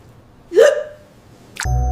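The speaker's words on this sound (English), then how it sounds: "Unlike normal hiccups, these do not go away. They are persistent and often violent." A single sharp hiccup, the kind of persistent hiccup linked to stroke, is followed moments later by a second abrupt hiccup onset cut short, both close and clear with no speech.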